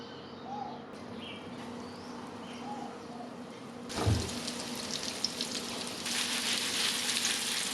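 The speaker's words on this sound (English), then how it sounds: "we'll heat up a little bit of sesame oil, and then we'll fry up the tofu for about 10 minutes on each side" Tofu frying in sesame oil in a pan: a quiet background gives way to a steady, close sizzle and hiss from about the midpoint, with a few louder spits. No one speaks.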